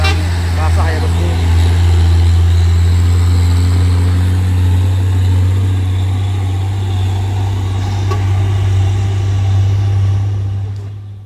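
A heavy tronton truck laden with crude palm oil labours uphill on wet asphalt in drizzle, its loud, steady low engine drone continuing without break throughout.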